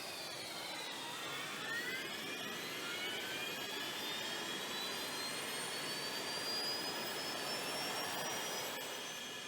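A Rocket League car engine idling with a steady, high-pitched whining drone like a jet engine, with slowly rising whistling tones over a constant rushing hum.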